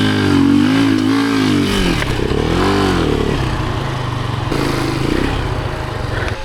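An enduro motorcycle engine revs loudly and up close after the clutch slips off, its pitch swooping up and down in uneven surges before settling into a rough, clattering idle-to-throttle drone outdoors.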